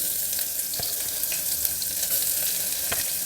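Garlic and onion frying in oil, a loud, even sizzle heard close up, with occasional small pops and soft stirring touches.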